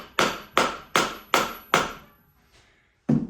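A homemade washer tapped into place on a PRM Newage gearbox from a Benford Amida site dumper: five even, sharp metallic hammer strikes about half a second apart, close and ringing, then a pause and one more blow.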